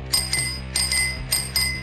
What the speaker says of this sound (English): I also have for pedestrians, so I don't scare the heck out of them, a little bell.